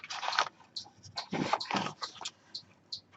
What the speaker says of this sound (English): there's a chipmunk right outside my window and he's barking.